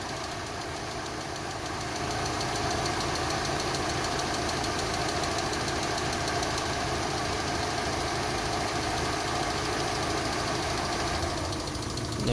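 Lancer Evolution IV engine idling with radiator cooling fans running, a steady close mechanical hum with a faint knocking pulse, growing louder after a couple of seconds and holding constant.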